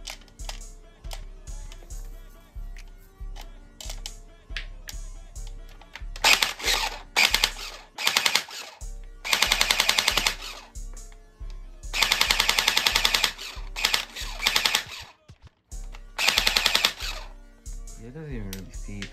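A GameFace airsoft AEG fires in several rapid full-auto bursts of sharp mechanical clicks, loud and close, separated by quieter stretches of handling clicks and whirring.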